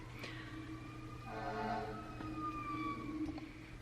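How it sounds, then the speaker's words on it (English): Wailing sirens rise and fall in the distance, sweeping past over faint background hum, growing slightly louder midway and then fading. "Just waited for the sirens to go past."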